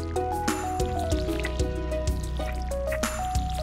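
Parsnip crops are watered in Stardew Valley, giving repeated squishy, dripping splashes at a steady rhythm over a tuneful game music background, loud and up front, with no talking.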